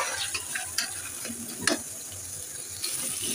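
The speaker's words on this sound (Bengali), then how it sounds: "এবার এটিকে ভালো করে ভেজে নেব।" Soft, steady sizzling of ginger garlic paste frying in oil, with occasional light clinks and stirring taps.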